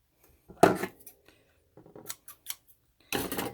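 Scissors cutting paper for a journal: a loud close snip, a few faint small clicks, then a longer crisp cutting stroke near the end, no voices.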